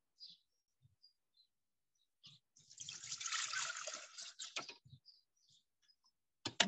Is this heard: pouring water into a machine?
yes